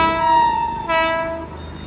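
A train passing near Varkala sounds its horn, a loud, sustained multi-tone blast that holds steady, shifts pitch partway through and then fades, with rumble beneath.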